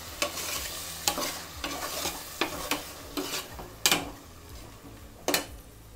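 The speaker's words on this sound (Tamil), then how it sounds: "தக்காளியை போட்டு நல்லா வதக்கணும்" Tomatoes sautéing in a pan for prawn biryani, a steady sizzle broken by repeated sharp scrapes of a spoon stirring, about one every second, close and fairly loud.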